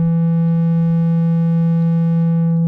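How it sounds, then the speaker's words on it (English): A Future Sound Systems Timbral Sculptor synth holds one steady, loud low tone with a low-pass filter shaping its upper harmonics, sustained alone without any voices. "I normally use the low pass filter, which cuts out the high frequencies and then introduces them back in as you turn it clockwise."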